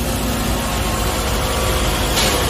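Toyota Camry ACV50 engine running with the air conditioning on, a steady close low idle rumble with no speech over it.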